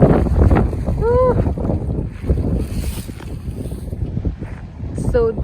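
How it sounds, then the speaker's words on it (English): Strong wind at a farm in Ventura County, California, roars and buffets the microphone continuously, with a few faint squeaky calls rising briefly through the gusts. "There's so much dust, so much wind here."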